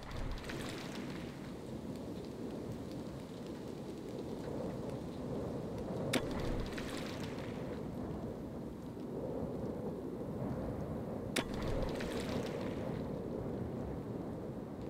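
Thunderstorm with heavy rain in the strategy game Anno 1701: constant dense rainfall under rolling rumbles of thunder, with two sharp cracks standing out, no talking.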